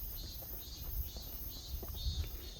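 Cicadas sing at the end of summer beside a riverside walking path, a steady high shrill drone pulsing softly in the background with low rumbling noise beneath.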